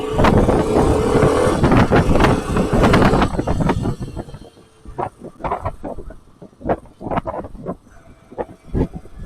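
Road traffic in Hereford heard while riding a Honda CT110, a loud rushing engine and wind roar giving way to passing vehicles and intermittent knocks and bumps, near and uneven.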